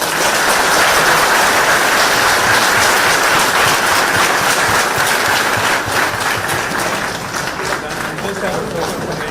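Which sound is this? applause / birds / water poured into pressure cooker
applause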